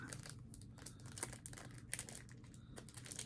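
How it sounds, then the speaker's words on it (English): A plastic shipping bag from a Temu order crinkles faintly as it is opened, in quick irregular rustles and crackles with a few sharper snaps, close by and quiet. "You always have some plastic bags to open."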